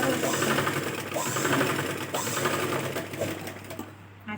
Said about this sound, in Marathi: ही जी बाजू आहे याला आपण शिलाई मारून घेऊया